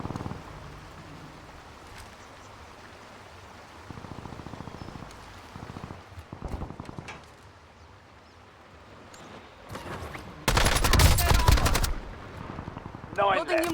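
Bursts of automatic gunfire in a squad battle royale video game, with several scattered shots early on, then a long loud sustained burst followed by short trailing volleys, all over quieter game ambience.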